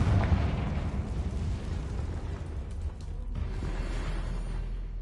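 A Confringo blasting spell explodes in Hogwarts Legacy, a loud booming blast at the start that rolls into a sustained low rumble and crackle, fading slightly toward the end.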